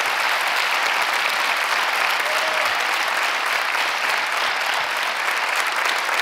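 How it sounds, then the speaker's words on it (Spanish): Studio audience applause on a late-night television show, continuous, dense clapping at full level for the whole stretch, with no voices over it. "estarían así aplaudiendo toda la noche"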